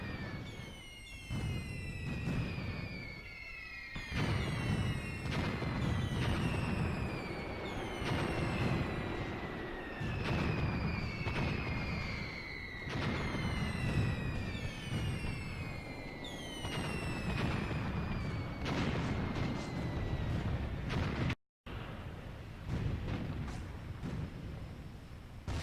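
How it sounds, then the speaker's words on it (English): Mortar rounds in the war game Graviteam Tactics, heard as dense, sustained rumbling booms that run continuously with overlapping whistling shell streaks above them, loud and steady for most of the span before a brief dropout near the end. "And more mortars."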